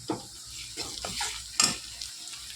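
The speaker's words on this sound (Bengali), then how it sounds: "এখন দেবো আদা রসুন বাটা" Ginger garlic paste frying with onions and tomato in a hot pan, giving soft bursts of sizzle with stirring scrapes and one sharper spatter near the end.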